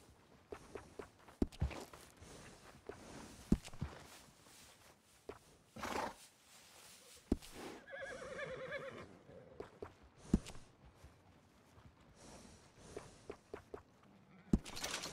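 A horse in Red Dead Redemption 2 whinnies and snorts amid hoof clops, thuds and movement, the neigh rising clearly midway through a faint, quiet scene.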